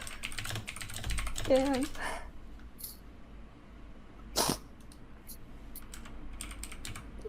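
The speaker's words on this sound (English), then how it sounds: "The typing is really distracting." Computer keyboard typing clicks away rapidly in the background, a faint patter of keystrokes under a brief spoken word and a sharp sneeze-like burst.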